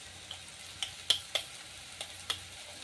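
Eggs going into a pan of sizzling village-style egg bhurji masala, a steady soft frying hiss broken by about six sharp crackling pops spread across a few seconds, close and fairly quiet with no talking.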